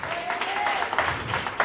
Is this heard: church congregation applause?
yes